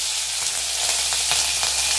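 Onion and curry leaves fry in a pan, a steady close sizzle with faint crackles and light stirring throughout, no voice.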